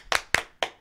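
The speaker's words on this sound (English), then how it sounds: "Round of applause for DJ A-Dub." A few sharp, separate hand claps, about four in under a second, close and fairly loud, sending off a DJ guest on a live comedy talk radio show.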